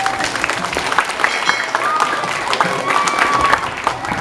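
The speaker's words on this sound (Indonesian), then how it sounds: "Bisa tepuk tangan dulu nggak semuanya?" Audience clapping at a school bazaar event, a steady dense patter of many hands filling the room without a break, with a faint voice underneath.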